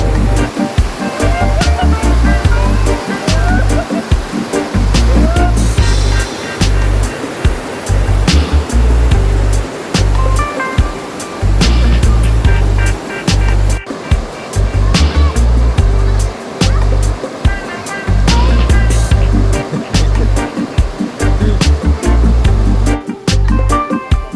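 River water rushes past at a campsite, a loud continuous roar and splash dominating close by, with irregular low thumps mixed in throughout.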